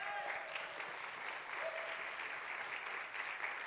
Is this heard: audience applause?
yes